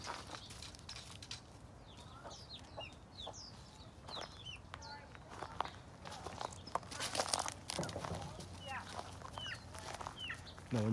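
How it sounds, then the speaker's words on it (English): A pet rooster named Biff clucks several times in short chirpy bursts among free-range chickens on a forest farm, with footsteps and rustling nearby and a person speaking at moments. "Our rooster Biff."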